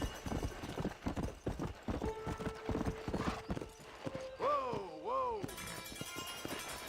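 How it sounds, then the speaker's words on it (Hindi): A horse in the video game Red Dead Redemption on PC gallops with rapid rhythmic clip-clop hoofbeats, then whinnies twice, while someone talks over it. "चल भाई दौड़ घोड़े।"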